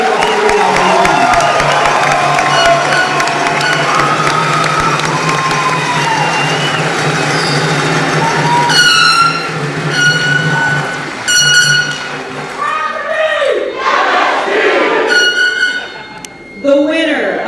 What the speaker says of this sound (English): Please join me in a round of applause for all our outstanding senior non-commissioned officers nominees